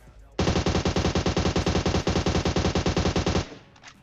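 Automatic rifle fire in PUBG Mobile, a loud rapid burst of about three seconds of evenly spaced shots that stops abruptly and leaves a short fading tail.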